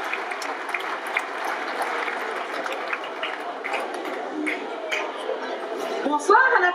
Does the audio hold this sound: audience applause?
yes